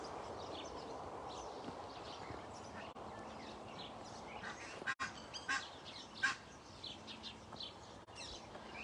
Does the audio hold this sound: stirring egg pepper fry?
no